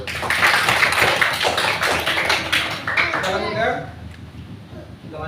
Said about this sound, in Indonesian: Aplaus, tepuk tangan dulu.